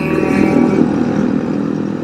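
Engine of a stretched and lowered Honda Grom motorcycle riding on the Barber Motorsports Park road course, a steady mid-pitched drone held at close range without a break and with no talk over it.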